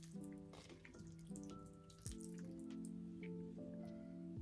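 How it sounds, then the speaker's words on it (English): Water poured from the top onto a potted bromeliad during houseplant chores, making steady splashing and dripping over a background of music with sustained tones. "Let's give her a water. I've heard that bromeliads like to drink from the top,"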